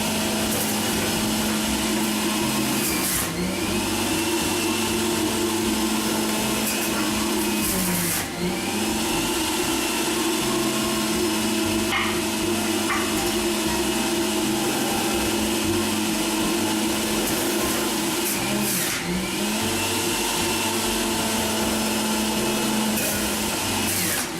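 A Breville Juice Fountain Elite juicer runs loudly and steadily while juicing a whole pear, its motor whine dipping in pitch under load several times as the fruit is pushed through, close and continuous.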